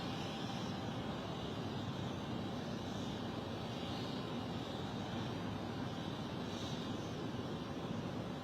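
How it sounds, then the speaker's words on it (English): An Embraer 190 E2 jet arriving at London City Airport produces a steady, moderately distant roar of jet engines, broad and unbroken throughout with no voices. "This is in from Zurich. It's an Embraer 190 E2 Helvetic."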